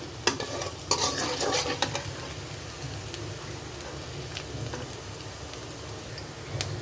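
Onions frying in a pan for a turnip curry, a dense crackling sizzle with a few sharp spoon clinks and stirring scrapes near the start and end.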